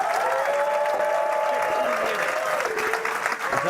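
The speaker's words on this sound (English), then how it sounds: "Let's get a round of applause for every single person in the room." Applause fills the room at a miniature painting awards showcase at a convention, steady and loud across the whole moment with crowd noise mixed in.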